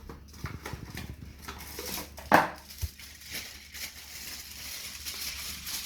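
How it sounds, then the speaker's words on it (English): Aluminium foil is crinkled and folded around a piece of pork belly, giving a close, rustling crackle with a couple of sharper crumples partway through. "I'm gonna go ahead now and use some foil wrap to wrap my pork"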